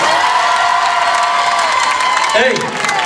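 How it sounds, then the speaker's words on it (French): A crowd cheers and applauds at a live DJ performance during a Paris wedding fair, a continuous roar of clapping and shouting voices with a tone sliding downward near the end and people calling out over the noise. "applaudissements pour lui s'il vous plaît"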